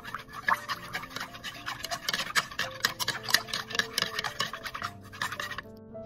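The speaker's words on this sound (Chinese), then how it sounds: "我们就可以开始滴入植物染色剂，然后再拿筷子再搅拌一下" Chopsticks stir paint mixed with plant dye, giving a steady run of quick scraping and clinking strokes that stays fairly close and moderately loud, with no voices.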